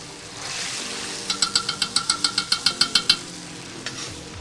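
A soft, steady sizzle of tomato paste frying in a cauldron over a campfire, with a quick run of about a dozen rhythmic scraping stirs in the middle.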